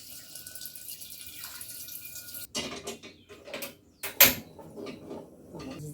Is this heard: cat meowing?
no